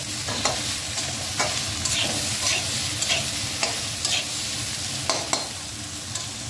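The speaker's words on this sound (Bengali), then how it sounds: "বেগুনটা দিয়ে একটু নাড়বো, বেশ 1 মিনিটের মতো একটু ভাজা ভাজা করবো" Eggplant fries in a pan with bitter gourd under a steady, close sizzle, while a spatula stirs and scrapes at an irregular rhythm, producing repeated clicks against the pan, with no talking.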